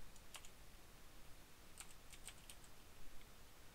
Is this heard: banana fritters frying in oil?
no